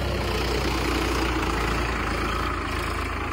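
A tractor engine running steadily while the tractor reverses, a dense low rumbling drone that holds at an even, fairly loud level throughout with no pauses.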